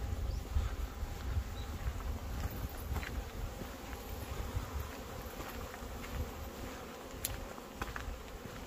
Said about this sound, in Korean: 여기도 한 봉하고 말벌이 들락거리니까